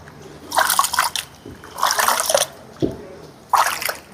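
Soaked rice for idli batter is washed by hand in a bowl of water, giving three loud bursts of sloshing and swirling water separated by short pauses, close up.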